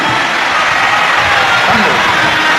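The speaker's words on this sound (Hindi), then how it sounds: "जोरदार गर्जना होना चाहिए तालियों की" A large crowd at a Shiv Mahapuran religious gathering at Kubereshwar Dham in Sehore breaks into loud, continuous applause and cheering, a dense unbroken roar that fills the whole stretch.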